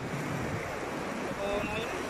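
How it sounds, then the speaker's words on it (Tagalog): Ocean surf on an open-sea beach at Bagasbas, a steady wash of waves mixed with wind noise on the microphone, continuous and moderately loud for the whole stretch. "Hindi talaga nawawala yung alon, no?"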